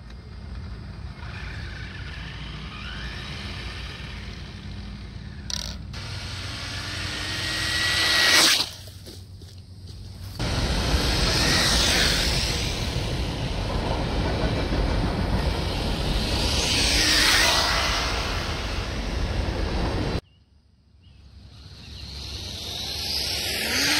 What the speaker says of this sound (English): under full throttle with this 3S battery, it kind of almost sounds like there's a gear that's stripped out